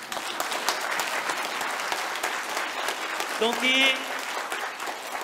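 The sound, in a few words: audience applause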